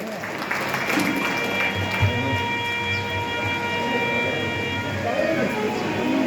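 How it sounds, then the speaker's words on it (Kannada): A hall audience claps at a theatre award ceremony, a steady broadband patter of applause running through the whole stretch with some faint voices mixed in. "ಜೊತೆಗೆ ತಮ್ಮ ಚಪ್ಪಾಳೆ ಕೂಡ ಇರಲಿ."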